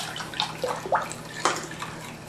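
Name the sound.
vinegar poured into evaporated milk for Donair sauce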